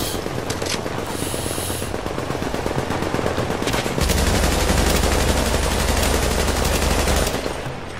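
Gun turret firing in The Division, a sustained loud rattle of rapid automatic shots that steps up into a heavier, denser barrage with a deep rumble partway through, then eases off near the end.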